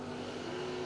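Top Fuel dragsters launching down a drag strip at a Fuel Tech race event, a steady loud engine roar with a strong low drone filling the whole moment.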